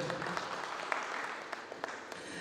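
Applause from an audience at a party's presentation event, a dense steady patter of many hands clapping at moderate distance with a few sharper claps standing out.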